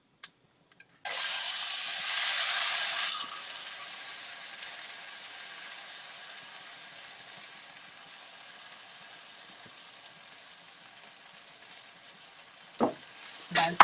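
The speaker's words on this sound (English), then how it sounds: "Now I'm going to put the moong dal into this." Moong dal hits a hot pan with a sudden bright sizzle that eases into a slow, quiet frying hiss and lasts many seconds, with a couple of utensil knocks at the end.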